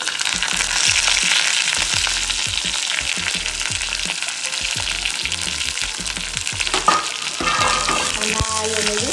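Green chilies and curry leaves fry in coconut oil for chicken kurma, giving a steady close crackling sizzle punctuated by intermittent stirring scrapes against the pan.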